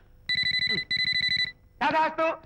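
A telephone rings with two bursts of rapid electronic trilling, loud and close, followed by voices speaking in a comedy scene.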